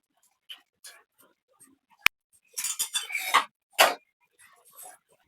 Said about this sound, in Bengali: কড়াইটা বসায় দিছি, তেলটা দিয়ে দিব।